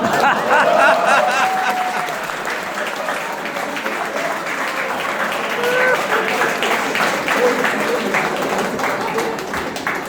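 An audience at an engineering college event bursts into sustained applause, a dense wash of clapping with scattered cheers and voices mixed in, lasting throughout.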